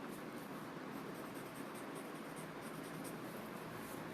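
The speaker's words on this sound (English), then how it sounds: "I don't like the sound of this tortillon moving on the paper" A paper tortillon rubs graphite across paper in a steady, soft, continuous scratchy hiss, close and quiet with no talking.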